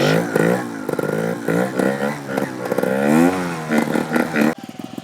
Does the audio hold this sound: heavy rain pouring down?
no